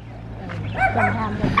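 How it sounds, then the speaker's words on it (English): Small puppies at a home in Chiang Rai give soft yips and whimpering bow-wow sounds, a few short close calls over a low steady hum. "Here's a puppy."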